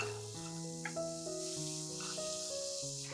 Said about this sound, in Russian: На горячую сковороду выкладываем грибы.